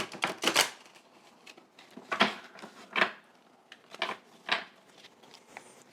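Tarot cards being shuffled by hand, several quick crisp riffling bursts separated by short pauses, close and fairly loud, with no talk.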